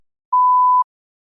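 A single clean electronic tone marks the start of preparation time on a TOEFL speaking practice test; it holds steady for about half a second, loud and alone against silence.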